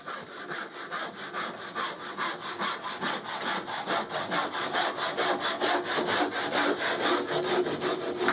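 A hand saw cutting a piece of wood for a koi pond skimmer build, steady rhythmic back-and-forth strokes, close and fairly loud, speeding up slightly toward the end.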